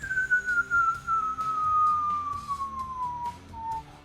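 A human voice imitates the whistle of a boulder falling from above, one long clear whistled tone that slowly glides downward in pitch for several seconds, with faint table noise underneath.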